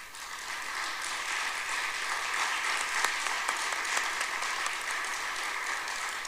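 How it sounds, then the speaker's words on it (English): An audience at a city State of the City address applauds steadily and evenly throughout, a dense wash of clapping at moderate distance, with no one speaking over it. "Can you please stand up for a round of applause?"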